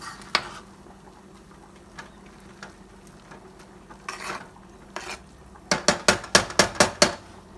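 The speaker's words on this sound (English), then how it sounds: "you can go ahead and stir up your rice" Cooked Haitian white rice being stirred in a pot on a low stove, giving sparse scraping clinks at first, then a quick run of six or seven sharp utensil knocks against the pot near the end.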